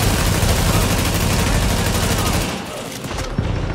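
Rapid gunfire in the video game Tom Clancy's The Division, a dense sustained burst of automatic shots that tapers off near the end, loud and close.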